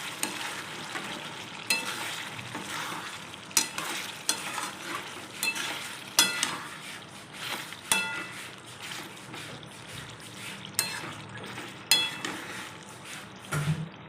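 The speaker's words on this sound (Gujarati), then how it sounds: "હવે આપણે તેને સરસ રીતે હલાવી લઈશું." Pumpkin sabzi with masala stirred in a pan, a steady gentle sizzle broken by repeated scraping strokes of a spoon against the metal, close and fairly loud, no talking.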